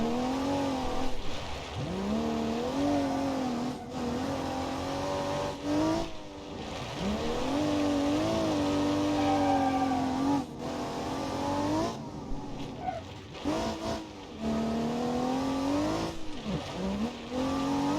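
Rally car in the BeamNG.Drive racing game on Rally Island, engine revving hard and sliding through a drift, pitch rising and falling with throttle over a steady, loud drone.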